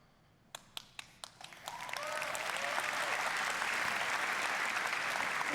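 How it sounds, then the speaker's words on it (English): Audience applause at the Ubisoft E3 2019 press conference: a few scattered hand claps at first, then swelling into sustained, fairly distant crowd applause that carries steadily to the end. "People didn't know they were supposed to applaud there."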